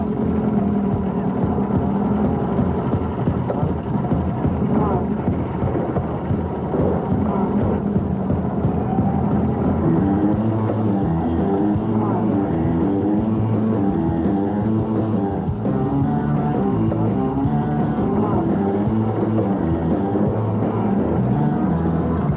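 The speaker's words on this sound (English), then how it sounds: "A camera, a very sensitive bit of video equipment mounted to this about a 400 horsepower motor." A remote-controlled camera vehicle with a roughly 400 horsepower motor, on a late-night TV studio set, roars loudly and continuously, its engine note surging and falling throughout.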